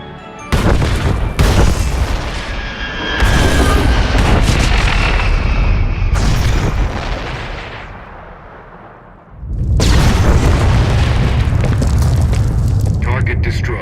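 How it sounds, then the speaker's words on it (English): A massive detonation destroys the Gauntlet, a warship in Star Wars: The Old Republic, with deep rolling booms that swell, fade, then surge again in a second loud blast. "Proceed with the detonation."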